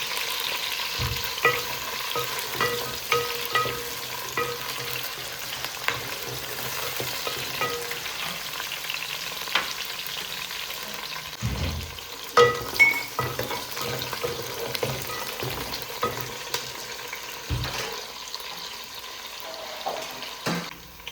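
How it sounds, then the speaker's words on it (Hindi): Onion, garlic and ginger sizzle quietly in a pan for chicken pulao while a utensil stirs and knocks against it now and then, a low continuous crackle throughout. "प्याज लहसुन अदरक को मैंने फ्राई कर लिया है"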